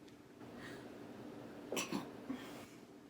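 A single sharp sneeze bursts out close by in a quiet room, followed by a smaller second burst.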